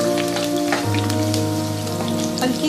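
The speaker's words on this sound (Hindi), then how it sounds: "इसी बचे हुए घी के अंदर 10 से 12 सब्ज मिर्चें डालेंगे और इनको हल्का सा फ्राई कर लेंगे" Ten to twelve green chillies fry lightly in leftover ghee for a mutton karahi, giving a steady crackling sizzle like patter on a surface, with background music running beneath and no speech.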